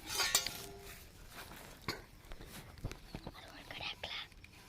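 Metal cooking vessels are scrubbed and washed in a home kitchen, giving soft, scattered clinks and scraping knocks at close range under quiet, hushed speech.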